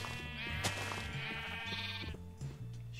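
A sheep in the Minecraft video game bleats several times in quick succession, sharp and close, over steady melodic game background music.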